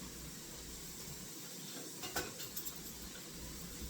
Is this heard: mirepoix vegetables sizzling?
yes